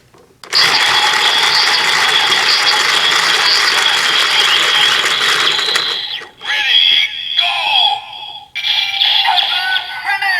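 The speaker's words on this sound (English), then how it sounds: "Then we can turn the crank for the TankTank finish." Cranking a Kamen Rider Build toy driver gives a loud continuous ratcheting gear whir, followed by electronic toy sound effects and chimes at close range.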